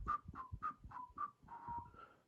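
A person whistles a short run of about five quick chirpy notes followed by a longer sliding tone, close and clear with no talking over it.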